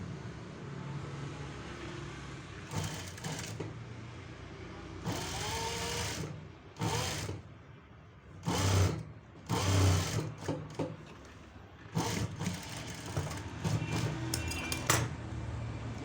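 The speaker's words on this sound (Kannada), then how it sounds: "ಇವಾಗ ಎಡ್ಜ್ ಸ್ಟಿಚ್ ಹಾಕೊಳ್ಳಿ" Close sewing machine edge stitching along fabric for a front placket on a garment, running in repeated bursts of whirring stitches separated by brief pauses.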